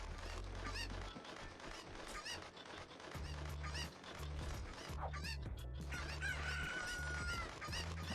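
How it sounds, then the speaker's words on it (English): Video game chickens clucking and a rooster crowing over a steady looping game soundtrack, with repeated cheerful fowl calls and brief chimes. "Alright, we got double chickens today."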